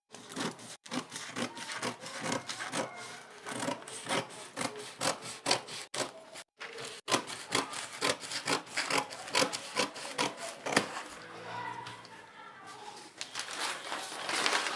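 Cutting out an off-shoulder bustier blouse pattern, heard as close, rhythmic rasping snips and strokes repeating steadily, with a couple of brief pauses.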